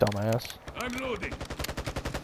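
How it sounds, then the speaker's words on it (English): Rapid automatic gunfire from a mag dump in the Modern Warfare 2 beta, a fast run of sharp bursts across the second half after a brief voice, loud and close. "Mag dumping into my former location."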